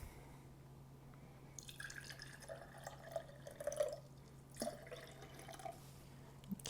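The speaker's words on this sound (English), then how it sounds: "I'm going to put the salt water in the 5th glass." Salt water pours and trickles into a glass in short bursts, faint and close, with a light splash and drip, against a low steady hum.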